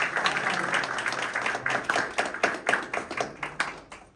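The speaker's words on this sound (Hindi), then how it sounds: "इनके लिए भी भरपूर तालियां थी।" Scattered applause from a workers' convention audience in a hall in Manchester, fairly quiet, with individual claps growing sparser and more distinct as it tapers off.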